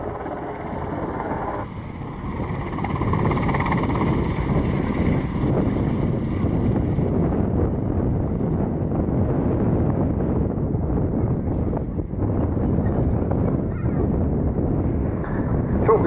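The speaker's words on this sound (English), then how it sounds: "Very agile helicopter, it's still relatively heavy, but nonetheless extremely manoeuvrable" A Swiss Air Force Super Puma helicopter flies a display at an airshow, its heavy rotor and turbine roar steady and loud throughout, buffeted by wind noise.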